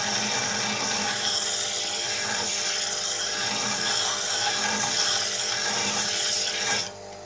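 A rotten wood chisel ground on a grinder produces a steady, loud, high whining grind that holds for about seven seconds before dropping off sharply at the end, close and alone.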